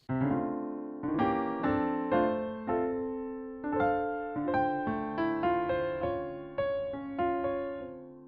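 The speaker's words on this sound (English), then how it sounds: "Another option is to turn the four-way close into drop two voicings" Piano playing a sequence of rich, spread-out drop two voiced chords, each struck cleanly and left to ring before the next, at a steady moderate pace.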